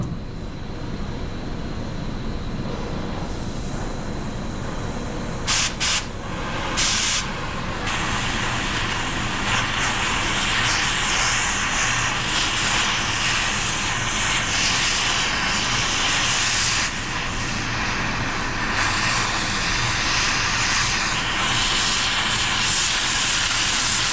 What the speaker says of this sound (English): They won't come out, so we are gonna have to torch them off